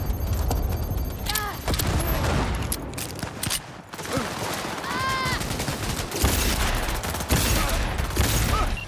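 Gunfire in Cyberpunk 2077 rattles in rapid, dense bursts, loud and close, with a voice and game sounds mixed in.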